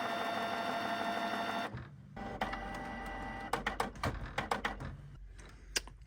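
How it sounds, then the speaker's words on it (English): A Canon G620 printer powering on: a steady machine hum cuts off, then a run of mechanical clicks, clacks and short whirring bursts from the print mechanism, close and moderately loud with no talk. "power the printer on"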